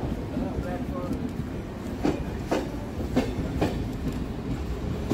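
A Sealdah–B.B.D. Bagh local train pulls out of Tollygunge station with a steady rolling rumble, as wheels on rail joints give several sharp, evenly spaced clacks toward the end.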